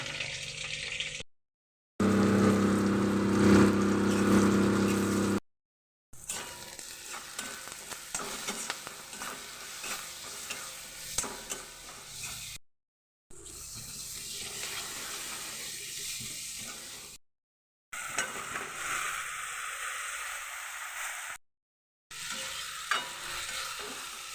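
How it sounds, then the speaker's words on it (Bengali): Mutton pieces frying in oil in a pan, stirred in bursts: loud sizzling with scraping of the utensil, broken by short silent gaps, with water running from a tap at times. "আগে ভেজে নিচ্ছি"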